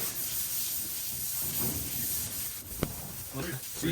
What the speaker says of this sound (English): just start scrubbing using that elbow grease